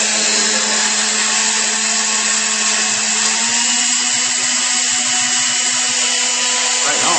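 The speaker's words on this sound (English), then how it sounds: "3/4 cups of oatmeal, all in the blender" A blender runs continuously on oatmeal protein batter, a loud steady high-pitched motor whine with a slight shift in pitch partway through.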